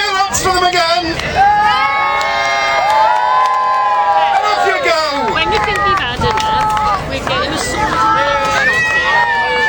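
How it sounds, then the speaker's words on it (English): A festival crowd, including children, cheers and shouts loudly at a knights' combat show, a sustained roar of overlapping voices and whoops. "Cheer lots for them again."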